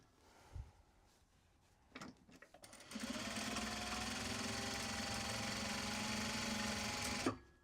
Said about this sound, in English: It's like, it sounds like the bobbin's throwing a fit.